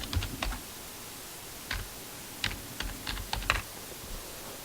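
Typing on a computer keyboard to name a folder, a handful of quiet, irregular key clicks with short pauses between them, close and alone.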